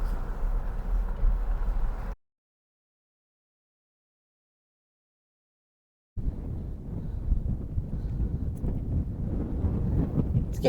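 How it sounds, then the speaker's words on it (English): Wind gusts buffet the microphone in Arizona's Painted Desert as a dense, rumbling roar. Two stretches of wind are split by a few seconds of silence. "It's getting a little windy up here."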